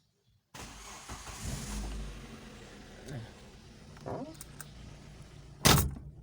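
A car with squeaking brakes starts up in a workshop: a click after near silence, then the engine cranks and settles into a low idle with a few clunks and a sharp knock near the end, with faint speech alongside.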